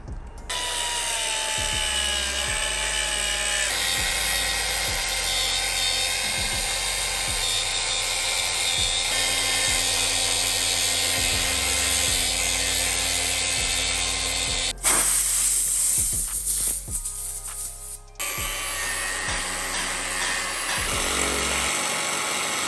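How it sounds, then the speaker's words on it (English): A big grinder cuts and enlarges a hole in a car body panel on a BMW E30 M3 body-work build, heard as a loud, continuous, close whine with a brief shift in pitch partway through. "now we're gonna get the big grinder and follow the hole and make it a little bit bigger"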